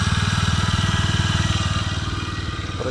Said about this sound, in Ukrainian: працює гарно, оберти рівні.